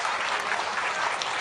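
Audience applause at a Hindu Sammelanam gathering, a dense, steady wash of many hands clapping together, fairly loud and continuous throughout with no voices breaking through.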